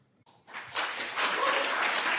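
Applause at a gathering on vaccine injuries starts after a brief quiet moment and quickly swells into a steady, full round of clapping from the audience.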